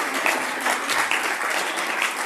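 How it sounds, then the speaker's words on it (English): Audience at a bitcoin hackathon awards event applauding the judges, a steady wash of many hands clapping, moderately loud and continuous throughout. "So a big round of applause to..."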